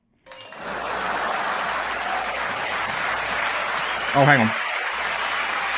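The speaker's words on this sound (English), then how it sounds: "I almost hit the applause key" Canned applause from a podcast soundboard swells in and holds steady as a dense, loud clatter of many hands, with a voice briefly exclaiming over it near the end.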